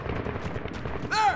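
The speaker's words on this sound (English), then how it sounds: "You hear that? That is an AK fire." Automatic rifle fire from an AK during a Medal of Honor (2010) combat mission, a dense rattle of rapid shots mixed with voices and battle noise, with a brief sharper burst near the end.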